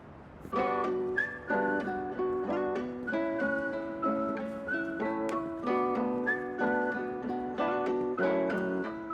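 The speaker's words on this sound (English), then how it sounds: "This whistle is just hypnotic." A bright whistled melody from a song plays throughout, repeating short phrases over a steady instrumental backing with layered harmonic tones, loud and continuous with no talk.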